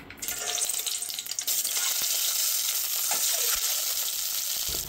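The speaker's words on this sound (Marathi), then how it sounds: "आपल्याला ही अंडी थोडीशी फ्राय करून घ्यायची।" Boiled eggs fry in oil in a kadhai with a steady close sizzle and crackle, broken by a few sharp clicks and scrapes of stirring, with no talking.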